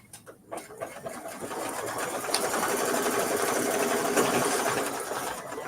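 A sewing machine stitching a Kimberbell mini-quilt, starting with a few clicks then settling into a steady, fast mechanical whir that runs evenly to the end, close and alone.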